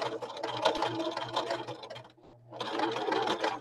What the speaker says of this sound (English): I'm going to just sew over top of it when I get to the end